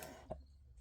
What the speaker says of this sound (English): My cough is here to stay, guys.